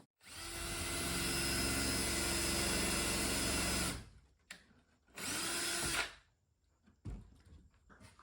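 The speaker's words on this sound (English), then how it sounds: "I am pre-drilling some holes in the baffles so that they don't split" A power drill whines steadily for about four seconds while pre-drilling holes in wooden baffles, pauses, then runs again in a shorter burst, with a brief third burst after another pause.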